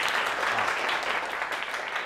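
A class of students applauds together in a classroom, a dense, steady wash of clapping that holds at an even level throughout, with a faint voice mixed underneath.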